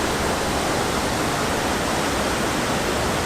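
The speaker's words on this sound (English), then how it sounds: "You can hear the waterfall in the back." Loud, steady roar of a waterfall in Naousa, a dense unbroken rush of falling water filling the whole clip with no voices.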